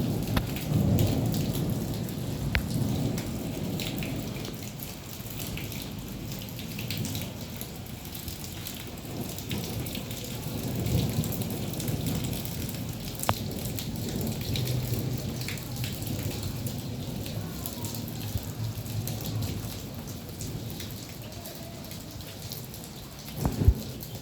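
Heavy rain pours steadily in Quetta during a storm with strong winds and hail, a dense roar of drops on surfaces with rumbling thunder rolling beneath and a sharp crack near the end.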